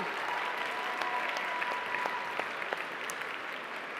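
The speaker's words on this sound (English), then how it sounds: "Let's have one more round of applause for our Specialist Award winners for feature writing" Applause for feature-writing award winners at a media awards ceremony, steady, fairly soft clapping from an audience with a few sharper individual claps.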